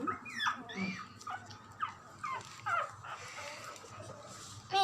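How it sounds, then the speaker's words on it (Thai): A litter of ten puppies whimpering and crying, a run of high, wavering yelps and whines close by, repeating in short bursts with a faint voice now and then. "หมาเอาแต่ร้อง ลูกหมาเอาแต่ร้อง"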